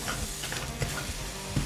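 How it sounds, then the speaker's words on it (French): Vegetables fry in a hot pan with olive oil, a continuous close sizzle broken by a few soft knocks from stirring. "On va faire revenir nos légumes dans une poêle chaude avec de l'huile d'olive"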